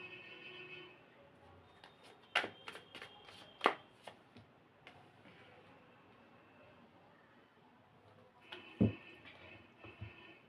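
Tarot cards are shuffled and drawn, giving a handful of sharp, close card snaps and riffles spaced irregularly over quiet room tone, with a heavier thump near the end.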